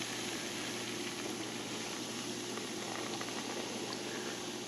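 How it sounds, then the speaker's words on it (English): Red wine must fermenting, with a steady, dense fizzing and bubbling that runs unbroken and fairly faint throughout. "It's fermenting nicely."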